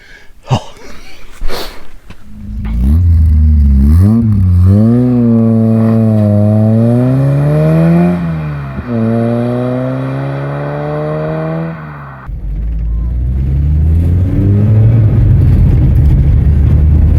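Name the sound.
1980 Volkswagen Scirocco GLS MK1 driving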